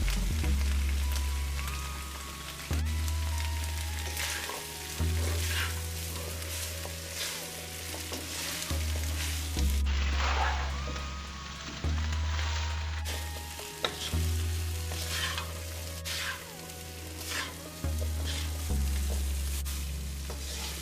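Channa, onion and wiri peppers fry steadily in a pan, a loud continuous sizzle with crackling pops, broken now and then by short pauses and a low hum in the background.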